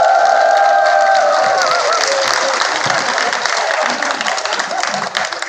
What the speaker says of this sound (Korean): 박수로 맞아주시면 감사하겠습니다.